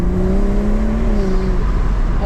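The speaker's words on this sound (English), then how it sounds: "it's a nice gear change, but as soon as you start like whack it in sport, it's so brutal" A Stage 1 tuned BMW M240i accelerates hard in sport mode, its engine drone rising and holding loud and close from inside the car.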